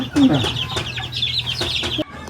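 Three-week-old chicks let out of the brooder on a farm, chirping and peeping busily and close by, with faint clucks blending into a low background hum.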